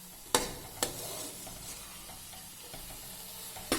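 A spoon presses and stirs carrot halwa in a pan as it finishes frying in oil, giving a soft steady sizzle with a few sharp scrapes and taps of the spoon, close and without talk.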